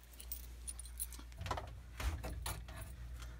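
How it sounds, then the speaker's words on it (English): A set of keys jangles and rattles up close for a few seconds as it is put away, with a few sharper metallic clinks. No talking is heard. "Put the keys away."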